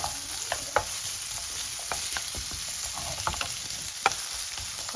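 Onions and other chilli paneer ingredients stirred and fried in a pan over a full flame, a continuous gentle sizzle with scattered scraping and tapping of the spoon, close by and without talk.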